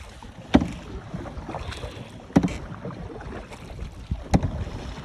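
A canoe on a Delaware Water Gap trip is paddled in three spaced strokes, each a sharp splash and knock over a steady background of wind and moving water.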